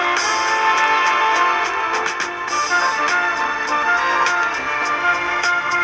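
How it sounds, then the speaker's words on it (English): A LaSonic AM transistor radio plays music with thin, low-fidelity tone, steady and continuous, with a boxy, narrow sound throughout. "It sounds like a telephone music on hold."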